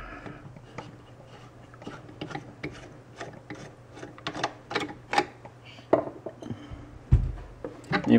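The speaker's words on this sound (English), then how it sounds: "I'm going to turn it off, and you unscrew the top here" Clicking, ratcheting mechanical sounds as the top of a vegetable appliance with rollers is unscrewed, a run of irregular sharp clicks and small clunks close by, growing louder toward the end.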